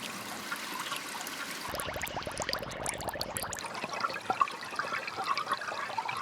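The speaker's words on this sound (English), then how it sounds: "I'm particularly fond of the watery types myself." Watery noise texture from the ShaperBox 3 audio plugin, a steady wash of flowing, splashing liquid sound that thickens into denser trickling and bubbling in the middle, then settles back to a softer stream.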